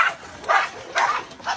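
A dog gives four short, bright barks or yips at a steady, evenly spaced rhythm, each one close and clear with quiet gaps between.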